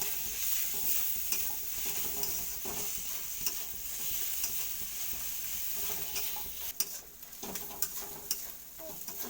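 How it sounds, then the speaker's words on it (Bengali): Ginger frying with onion and turmeric in a pan for a mutton and potato broth gives off a soft, steady sizzle, with repeated stirring scrapes and occasional clinks and no voices. "আমার আদাটাও ভাজা হয়ে গেছে"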